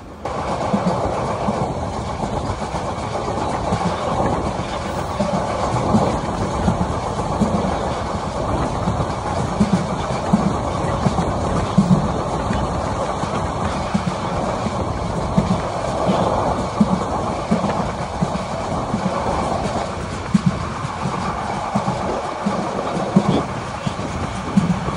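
The 815 Parjotak Express, an intercity train running between Cox's Bazar and Dhaka, rumbles steadily on the rails for the whole stretch, with rhythmic clickety-clack from the carriages and a constant close drone.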